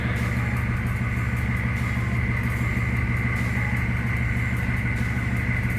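A 6.5L diesel truck engine idles steadily after starting, a constant low rumble with a droning hum, close and continuous throughout.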